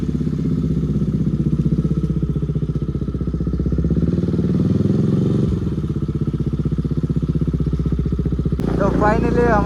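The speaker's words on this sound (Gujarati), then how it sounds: "ચાલો હવે આપણે ઘરેથી નીકળીએ છીએ આપણી બાઇક લઈને" A motorcycle engine runs steadily nearby with a throbbing, puttering rhythm as riders set off from home, with a person's voice heard over it near the end.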